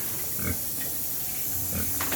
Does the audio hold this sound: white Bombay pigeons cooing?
no